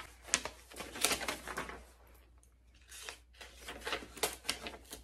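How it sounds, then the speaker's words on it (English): Paper pages are ripped from a notebook in close, noisy tearing bursts, with a short pause in the middle before more rustling tears follow. "I need to rip these pages out."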